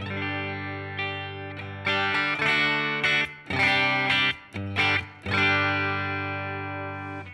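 Electric guitar plays through a Fender Tone Master Pro amp modeler on a heavily processed, effects-laden bass scene, with chopped phrases, sustained notes and abrupt pauses between bursts.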